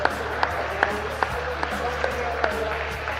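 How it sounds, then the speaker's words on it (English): Scattered clapping at a pickleball men's doubles final ceremony, sharp claps landing at a fairly regular pace over a low hum, with some voices in the background. "Give them a round of applause"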